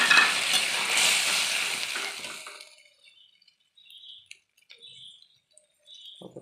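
Boiled lentils tipped into tomatoes frying in a pan and stirred, a loud burst of sizzling and scraping for about three seconds that cuts off, followed by faint scattered clinks and taps.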